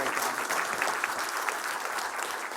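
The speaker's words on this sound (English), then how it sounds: "Let's give them a round of applause." A room full of people at a transit investment event applauds in a brief, steady burst of dense clapping, fairly even in loudness from start to finish.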